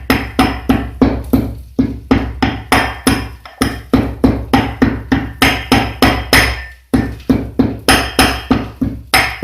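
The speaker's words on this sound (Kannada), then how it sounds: "ಇದನ್ನು ಸ್ವಲ್ಪ ಹೀಗೆ ಕುಟ್ಟಿಕೊಳ್ಳುವ. ಇದು ತರಿತರಿಯಾಗಿ ಹುಡಿಯಾಗಬೇಕು." Whole spices for Mangalorean chicken sukka are pounded coarsely in a mortar, a fast, even run of close, hard thuds, about two strikes a second, with one short pause midway.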